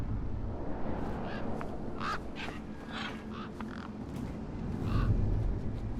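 Crows cawing in Beyond a Steel Sky, a scattering of harsh caws from several birds over a steady ambient bed, moderately near, with no talk.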